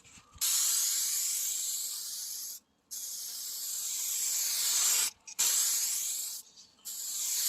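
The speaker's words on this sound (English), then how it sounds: "now I'm gonna apply a light coat of clear" A spray can lays a light coat of clear over the peeling paint on a Hyundai, heard as three long, steady bursts of close hiss separated by short pauses, with no talking.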